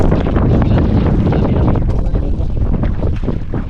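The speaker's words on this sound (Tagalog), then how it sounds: "Grabing hangin ay." Loud, constant wind roars and buffets across the microphone, a heavy blustery rush with gusts that barely let up.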